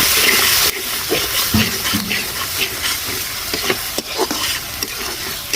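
Steady sizzling of a chili-powder spice paste frying in a pan, with scraping stirs and clinks of a spoon throughout, close and fairly loud.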